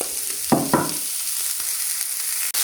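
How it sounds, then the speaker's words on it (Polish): Leftover cooked purple jasmine rice fries in a pan while being stirred. A steady sizzle runs throughout, with two quick scraping strokes early on and a few soft knocks. "Wrzuciłam ryż. Teraz mieszamy."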